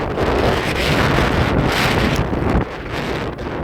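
Heavy wind roars steadily across the microphone outdoors in Hermann, Missouri, a loud continuous rushing buffet that dips slightly near the end.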